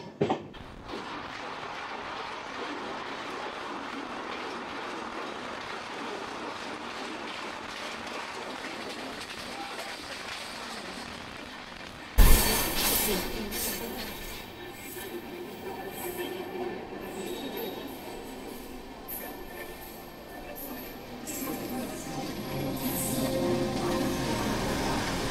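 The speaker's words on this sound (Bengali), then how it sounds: "ট্রেনটি এখন ছেড়ে চলে যাচ্ছে বোলপুর শান্তিনিকেতন।" Kanchanjangha Express pulling out of Bolpur Shantiniketan station, heard from on board as a continuous rumbling rattle of wheels and carriages that grows louder after a sudden bang midway, with faint squeals.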